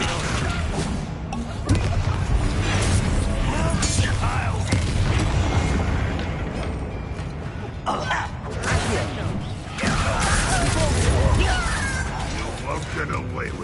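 Confringo explosive spell cast in Hogwarts Legacy, its fiery blasts bursting repeatedly amid a loud, dense stream of combat effects and voices.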